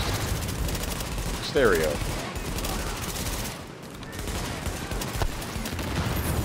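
Shotgun fire in the video game Tom Clancy's The Division, with repeated blasts and shooting through a busy firefight. A player talks over the gunfire.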